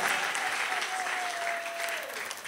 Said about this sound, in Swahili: Ningekusihi tushangilie Yesu mara nyingine kwa makofi makubwa